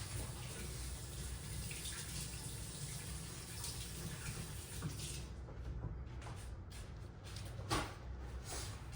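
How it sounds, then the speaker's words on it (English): Hands being washed under a running kitchen tap after mixing Rice Krispie treats, a quiet, steady rush of flowing water with a few faint splashes near the end. "Let me wash my hands real quick."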